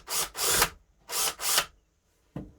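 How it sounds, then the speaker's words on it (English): Power drill pre-drilling a small pilot hole in a wooden serving tray panel: two pairs of close, loud whirring bursts, each under a second, then a short faint tap after a brief pause. "I'm just going to pre-drill a small hole"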